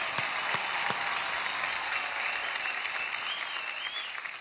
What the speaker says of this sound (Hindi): एक बार जोरदार तालियां for Aryananda